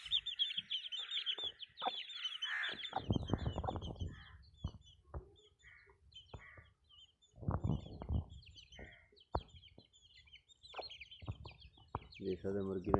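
Aseel chickens cluck and call near newly hatched chicks, with high peeping and bursts of fowl vocalizations, while someone talks over them at close range.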